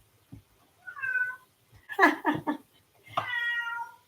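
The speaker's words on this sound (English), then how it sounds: "So if you hear a cat meow" A domestic cat meows several times indoors, a drawn-out mew followed by a quick run of shorter calls and another long plaintive meow, close and fairly soft, with no talk.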